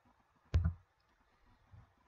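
A single crisp computer mouse click as the OK button is pressed in car engine management software, close and alone in a quiet room, with a faint soft thump just after.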